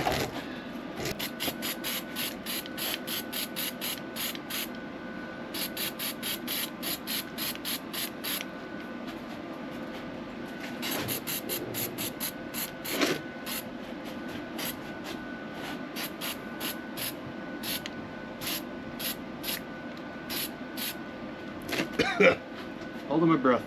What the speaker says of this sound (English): And now I take my spray box.